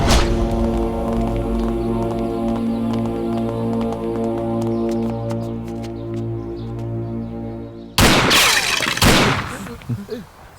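Gunfire in a dubbed South Indian police film scene: several loud sharp bursts near the end follow a long stretch of sustained music, landing abruptly and fading out.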